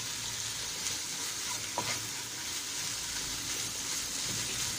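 Chicken kefta frying in a pan, a continuous close sizzle with occasional stirring scrapes and no talking.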